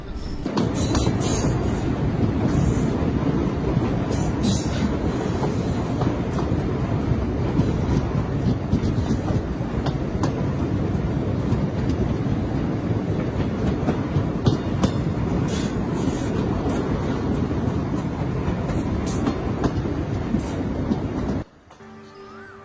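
An old passenger train on the rural Ait–Konch branch line in Jalaun district rumbles steadily with loud, continuous wheel and carriage noise and wind buffeting close to the microphone, cutting off abruptly near the end.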